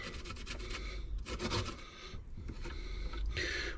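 Potatoes for cepelinai are grated by hand on a metal grater, a continuous close rasping scrape in repeated strokes with brief pauses, and no voice.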